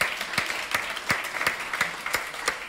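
Applause for Fabian and Dominik from a cabaret theater audience, heard as sparse, fairly quiet clapping with a handful of distinct sharp claps standing out at a steady pace over a soft patter.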